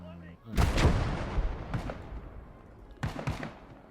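Artillery fire in the World War II video game Call to Arms Ostfront, three loud booming blasts with rumbling decay, the first one heaviest, then two more at intervals.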